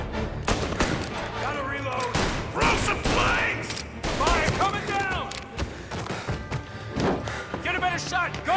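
Gunfire in the Mafia video game: bursts of shots and thuds crack out over and between excited shouting voices.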